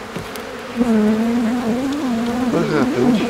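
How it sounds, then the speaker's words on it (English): A dense, steady buzzing of many bees close by around a hive with boxes, droning with shifting pitch, while a person briefly speaks over it. "Bees, buzz."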